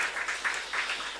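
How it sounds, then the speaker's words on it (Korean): A church congregation applauds to welcome returning visiting deacons during a Sunday service, a short, steady burst of clapping heard throughout without speech. "박수로 한번 환영하겠습니다"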